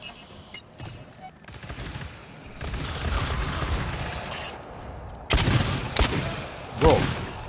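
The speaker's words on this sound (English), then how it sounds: "the burst cannon is just 3-round burst now. It's not 5 anymore." Burst cannon gunfire in the co-op shooter GTFO, firing in short bursts with a sharp crack near the start and heavy clusters of shots later, over sustained noisy game action.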